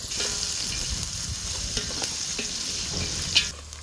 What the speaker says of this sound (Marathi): असा व्यवस्थित लाल होईपर्यंत कांदा भाजून घ्यायचा